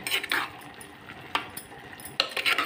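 Tomato pieces tipped into a cooking pan of curry, giving a few soft clattering bursts and light utensil scrapes against the pan, fairly close, with no talking.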